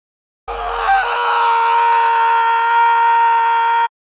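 Scream sound effect in a Spanish-language horror story: one long, loud, sustained shriek that starts abruptly, wavers briefly, then holds a steady strained pitch for over three seconds before cutting off sharply.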